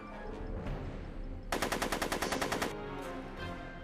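Rapid burst of gunfire from the video game Back to the Future: The Game, a fast run of about a dozen loud shots lasting just over a second, set against steady game background sound.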